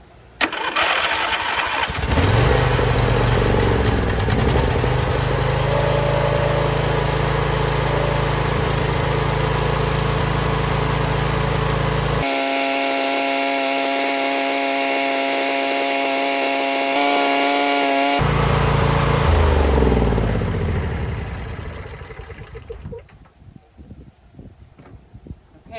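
A neglected John Deere engine cranks, catches and runs loud and close for about twenty seconds, with a steady droning idle and a brief cut partway through, then winds down and stops, leaving faint clatter.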